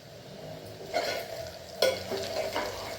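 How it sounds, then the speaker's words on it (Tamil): Onions sautéing in a pan for chicken biryani, a steady sizzle under repeated scraping stirs of a utensil against the pan. "வெங்காயம் பாருங்கள் நல்லா வதங்கிடுச்சு."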